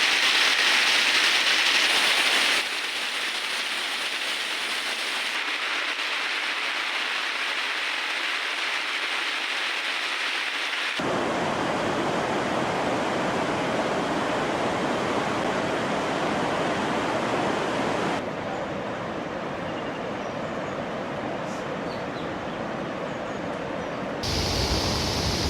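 Torrential downpour during 95 centimetres of rainfall in Tamil Nadu roars as a dense, continuous hiss of pouring rain across several changing scenes, loud and steady throughout with no speech.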